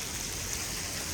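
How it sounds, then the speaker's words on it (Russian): Steady rain falls outdoors while people walk in it, a dense, even hiss of drops with no voices. "А это мы гуляем под дождичком."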